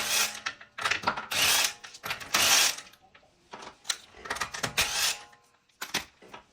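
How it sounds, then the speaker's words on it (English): Front wheel coming off a Nissan Qashqai during a brake pad job: bursts of mechanical ratcheting and whirring from a tool loosening lug nuts, several loud close runs separated by short pauses, no speech. "let's remove the wheel now"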